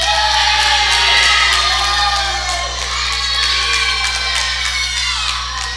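Wrestling crowd cheering and shouting at a live show, a loud, dense roar of many voices with whoops that rises and dips without a break, under a constant low hum.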